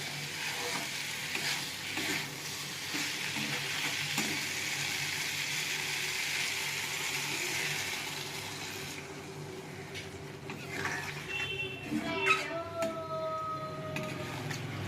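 Water poured into a pan of soybean and potato curry frying in oil, a loud steady sizzle that shifts to bubbling hiss with a few faint stirring clinks near the end, no voices.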